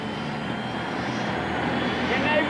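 A Y2K turbine motorcycle runs with a loud, steady jet-like roar that swells slightly toward the end. Someone speaks over it.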